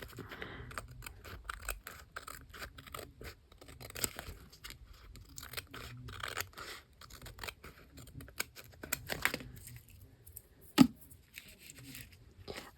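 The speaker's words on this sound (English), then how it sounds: "Try not to cut any of the lace off." Scissors snip through paper and lace while a paper bag journal is trimmed, a close series of quick irregular cuts and crisp paper rustles, with one sharper snap near the end.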